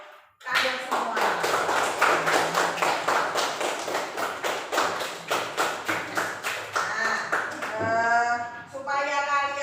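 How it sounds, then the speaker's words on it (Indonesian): Children in a classroom clap together in a steady, rhythmic beat for several seconds, the claps sharp and close, before the clapping stops and a voice speaks. "Tepuk tangan untuk kalian semua."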